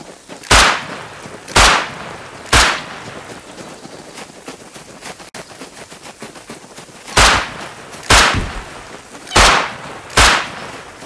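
Seven sharp, loud gunshots from the video game Rust, fired singly in two uneven groups with a pause between them, each echoing briefly over a quiet outdoor ambience.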